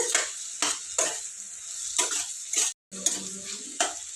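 A spoon stirs tomato curry with coconut powder in a pan, giving repeated scraping strokes with light sizzling underneath, close and steady for several seconds with no talk.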